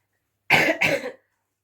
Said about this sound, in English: I'm trying not to keep coughing